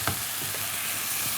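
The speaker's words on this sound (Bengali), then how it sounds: "আমরা ভালো করে মেখে নিব। একটু কষাতে হবে।" Soaked rice is sautéed with spices in hot oil, giving a steady, close sizzle with a few brief stirring scrapes.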